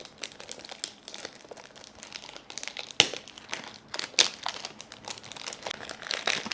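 Crinkly plastic film and sealed packaging being torn and peeled off a perfume bottle up close, with irregular crackles and two sharper rips partway through.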